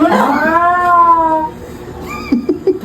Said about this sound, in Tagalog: Malaking pusa siguro yun.